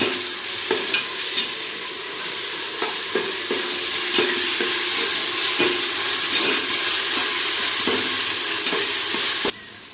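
Ginger garlic paste fries in a pan for mushroom biryani, a loud, steady sizzle with regular scraping strokes of stirring that cuts off abruptly near the end.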